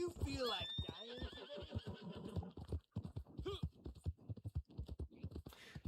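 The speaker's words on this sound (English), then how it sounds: "This is the Black Arabian Horse." Black Arabian horse in a video game lets out a loud, close whinny at the start, followed by continuing hoofbeats with faint voice-like sounds mixed in.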